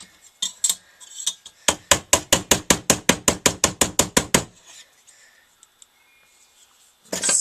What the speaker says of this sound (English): I can hammer that a little bit more down there